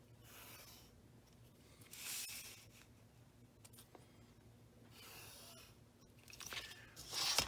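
A pen draws lines across a paper pattern for a leaded-glass octagon solar lantern, giving faint scratchy strokes with a few louder rubbing passes over a quiet room hum.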